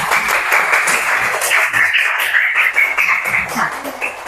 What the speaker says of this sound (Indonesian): Kasih aplaus dulu untuk kelompok pertama.